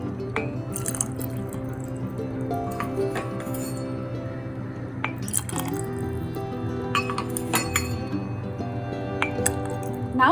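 Hot water poured over cashews in a bowl, a steady liquid trickle with soft clinks and drips, close by, no voices.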